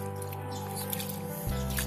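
Water is poured to rinse a switching power supply board scrubbed with powdered detergent, giving quiet wet dribbling and dripping over a low hum, with a sudden thump and splash near the end.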